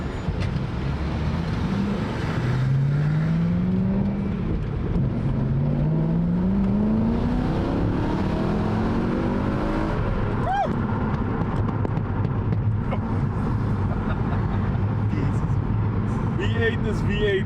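Audi S3 engine revving up and down through high and low RPMs, rising and falling engine tones sweeping repeatedly, with steady road or cabin noise beneath.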